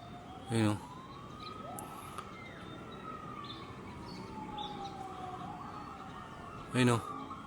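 A fire truck siren wails steadily in the distance, rising and falling as it approaches a fire in Las Piñas, while two sharp loud pops ring out near the start and end.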